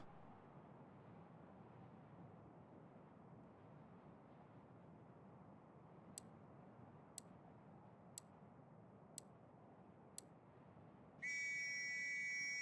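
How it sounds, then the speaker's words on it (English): In an Xbox One Incursions championship esports match, a steady whistle sounds to start the round. Five evenly spaced faint ticks lead into it over a constant low background hum. "And there is the whistle."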